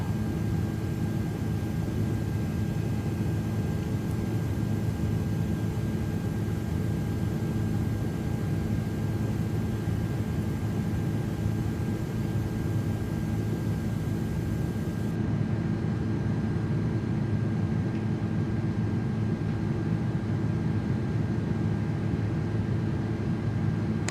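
An iniBuilds A330-300 airliner in Microsoft Flight Simulator 2024 climbs out after takeoff, giving a steady, loud, unbroken roar of engine and airflow noise that holds constant throughout with no voices.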